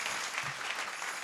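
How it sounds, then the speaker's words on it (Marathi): A kirtan audience claps loudly in honour of three singers, a dense, continuous wash of applause filling the short moment without any voices. "इथं जोरदार टाळ्या वाजवा यांच्या नावानं"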